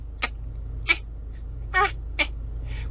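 Several cats in a home make five short, sharp chirps and sniffs, spaced irregularly over a low steady hum, each burst brief and close.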